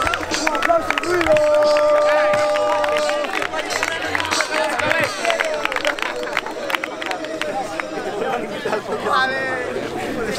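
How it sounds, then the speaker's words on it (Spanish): At a Galician rap battle, a lively crowd claps, cheers and shouts continuously, with loud overlapping voices and chatter throughout. "¡Un aplauso y ruido!"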